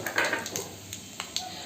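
Whole dried red chillies and panch phoron spices frying in the oil left from frying fish, a soft close sizzle with a few light clinks of a utensil against the pan.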